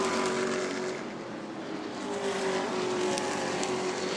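Race cars circle the asphalt oval at New Smyrna Speedway, heard from a distance as a steady, moderately faint engine drone with a sustained tonal whine and no voices.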